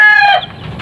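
A single chicken gives one short, loud, close cluck, sharp and nasal at its onset, then fades into quiet farmyard background.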